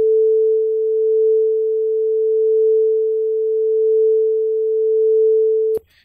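A single steady sine-like tone plays back through a compressor, its level gently swelling and dipping in slow waves for about six seconds before cutting off abruptly with a short click.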